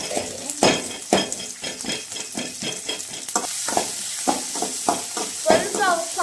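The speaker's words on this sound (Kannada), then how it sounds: "ಇವಾಗ ಈರುಳ್ಳಿ ಹಾಕೊಂಡು ಫ್ರೈ ಮಾಡ್ತಾ ಇದ್ದೀನಿ." Onions fry in a pan at home, sizzling steadily while a utensil stirs and scrapes against the metal in irregular strokes, close and fairly loud, with a few sharper clinks.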